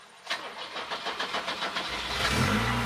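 A Volvo 240 restomod's starter motor cranks with a rapid, rhythmic whirr for about two seconds before the engine catches and fires into a rising idle.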